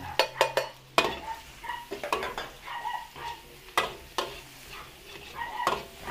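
Chopped onion and other ingredients for a Filipino dish are sautéed and stirred in a pan, with soft sizzling under repeated scraping and metallic clinks of a utensil against the pan, close and fairly quiet.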